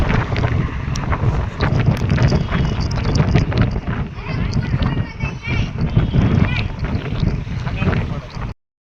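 Wind buffets the microphone in a constant loud roar with rustling and thumps throughout, and voices talk underneath.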